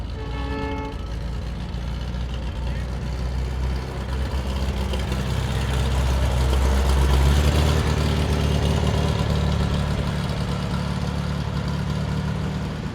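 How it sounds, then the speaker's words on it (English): Custom cars pull away from a Big Bear car show one after another, a steady blend of idling and revving engines that swells mid-way and stays loud throughout, with no talk over it. "to see the cars go and listen to their engines"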